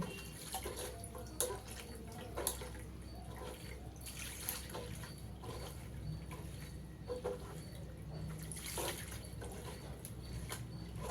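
Tap water runs steadily over freshly made paneer as it is rinsed to wash out the vinegar sourness, a continuous splashing wash with occasional drips, heard alone with no talking.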